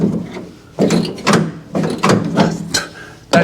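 Mechanical clunks and scraping from the door mechanism of a 1971 Chevelle, a series of about six sharp knocks and rattles at irregular intervals, close and loud, with no talk.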